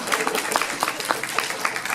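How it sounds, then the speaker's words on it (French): Dense applause from a small group fills the space, a steady wash of many hands clapping with scattered sharper claps poking through, continuous and fairly loud, with faint voices mixed underneath. "Tiens, bravo, on peut applaudir."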